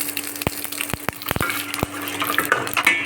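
Asafoetida and dried chillies fry in hot oil for tempering, a steady sizzle broken by sharp metallic clinks of a utensil stirring against the pan.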